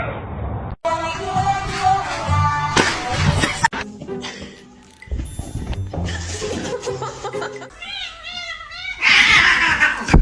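A kitten meows repeatedly in high, wavering cries, close by, with a person talking and laughing around the calls.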